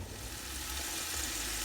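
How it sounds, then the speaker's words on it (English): White potatoes and hot sausage fry in a pan, giving a dense, steady sizzle that stays even and close throughout with no talking. "I have some white potatoes, and I'm frying those with some hot sausage"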